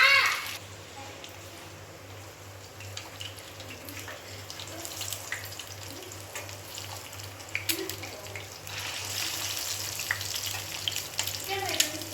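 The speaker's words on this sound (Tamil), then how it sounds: "இன்னைக்கு நம்ம வந்துட்டு இந்த பேன்ல தான் வந்துட்டு மீன் ஃப்ரை பண்ண போறோம்" Fish frying in a pan with oil, a steady crackling sizzle throughout with a low electrical hum beneath, the spitting growing a little louder toward the end.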